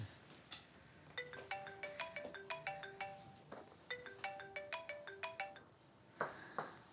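A phone ringtone plays a repeating electronic melody in two phrases, fairly soft, with a few brief knocks between.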